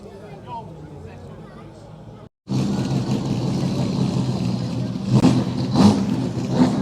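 A Jaguar car drives past at the Gaydon Gathering car show at the British Motor Museum. After a brief silent gap, its engine swells loudly and steadily, with voices and crowd noise around it.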